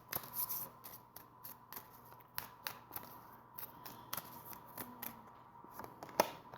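Tarot cards are shuffled close up in a quiet room, a run of soft, quick riffling snaps and taps repeating irregularly throughout.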